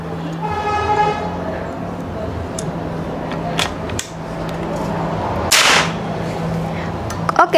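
One sharp shot from a Predator OD 38 V1 PCP air rifle bursts out midway, briefly hissing over a steady hum, with a car horn-like tone sounding near the start.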